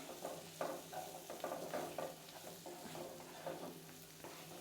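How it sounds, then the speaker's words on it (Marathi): Potato, carrot and peas are stir-fried in a pan, a faint low sizzle broken by rhythmic scraping strokes of a spoon, with no voices. "बटाटा गाजर आणि मटार हे सगळं व्यवस्थित आता परतवून घ्यायचं आहे"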